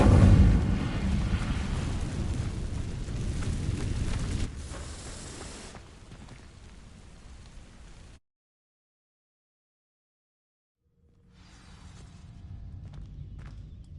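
An Incendio fire spell in a Hogwarts video game sets dry vines alight: a loud, roaring burst of flame that slowly fades, cuts to silence, then gives way to a softer crackling rumble.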